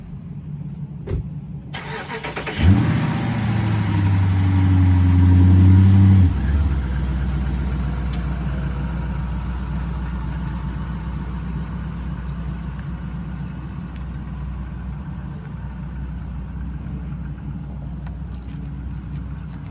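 2016 Dodge Charger with a 5.7 V8 cranking and firing up, a loud start flaring for a few seconds before settling into a steady, deep idle close by.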